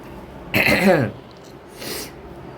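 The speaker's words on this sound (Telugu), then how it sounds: "గొంతు సవరించుకోవాలి" A person clears their throat with a short, forceful rasp, followed a moment later by a softer, breathy second clearing.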